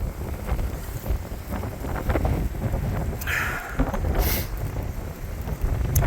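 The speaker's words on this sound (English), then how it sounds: "Hopefully you can hear me, the wind is something fierce." Strong gusts buffet the microphone outdoors during excavator and skid steer repair work, a steady low rumble across the whole stretch with louder bursts, and no voices.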